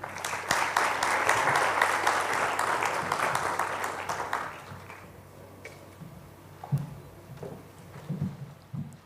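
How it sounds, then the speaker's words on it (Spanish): Audience at an endocrinology congress in Peru applauds loudly for about four seconds to welcome a speaker, then the clapping thins out into scattered claps and room noise. "Entonces la recibimos con un fuerte aplauso,"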